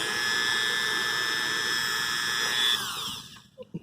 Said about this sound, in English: I took the trusty Dremel with a polishing wheel